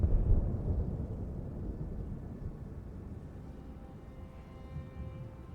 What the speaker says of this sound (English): Gyeta can actually use lightning.